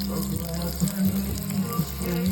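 Fish fries in a pan with whole chilies, giving a steady, close sizzle that crackles on without break under faint kitchen clatter.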